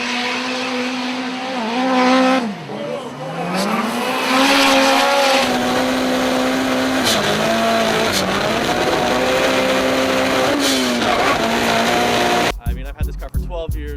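A Toyota AE86 drives hard with its engine revving up and down and tires squealing, loud and continuous over music, with a cut to choppy sounds at the end.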